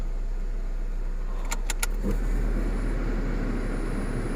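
A cold Nissan Latio HR16DE engine from a former taxi idles with a low, steady hum, broken by a few quick clicks and a light rattle in the middle.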